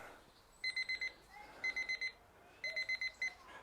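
A digital timer alarm sounds at the end of a hockey drill, sharp high electronic beeps in rapid groups of four repeating three times, fairly close over quiet background.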